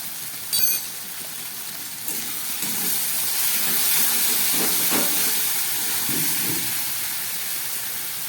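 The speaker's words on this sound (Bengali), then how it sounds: "সমস্ত মশলাটা খুব ভালো করে আমি কষিয়ে নিলাম" Tomato, coriander powder and cumin masala fries in a pan for a rohu fish curry, giving a steady, close hiss of sizzling that lasts throughout without talk.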